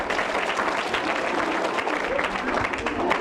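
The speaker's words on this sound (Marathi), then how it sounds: "याच्यासाठी जोरदार टाळ्या." An audience at a quiz event in a school or talk-show setting breaks into sustained, even applause, many hands clapping loudly and continuously throughout, with faint voices mixed in.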